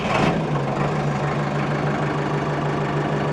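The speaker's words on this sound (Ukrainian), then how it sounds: "заведеться тільки тільки в нейтралці заведеться" A Solis 105 tractor engine catching and settling into a steady idle, a brief burst at the start giving way to a loud, even, low rumble close by.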